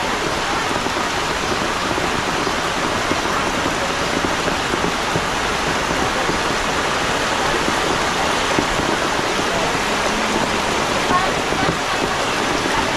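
Overflowing river floodwater in Talisay rushes in a steady, loud broadband roar that runs unbroken throughout, with faint voices partly buried beneath it.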